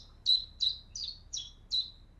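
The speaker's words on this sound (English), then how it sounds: "So this is what the bird sang, and then the AI continues it." A bird sings a phrase that an AI model then continues, giving five evenly spaced bright chirps, each a short descending whistle, clear and close over a faint low background hum.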